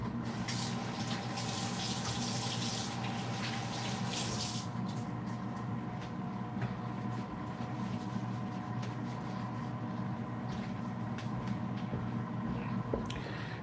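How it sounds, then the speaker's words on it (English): Water runs from a kitchen tap as hands are washed under it, a steady close splash that shifts slightly as the hands move, with no talk. "I'm just going to wash my hands."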